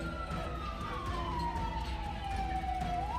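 A fire engine siren from the Asahan fire department wails steadily at a fire scene, its falling tone sweeping slowly downward over constant low traffic and crowd rumble.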